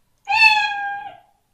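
A single clear cat meow from the sound built into a Scratch sprite, one drawn-out, close and clean call lasting about a second, with no other sound around it.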